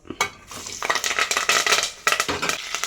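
Sliced onions and curry leaves fry in hot oil in a pan for berakaya karam, with a steady loud sizzle broken by stirring scrapes and clatter throughout.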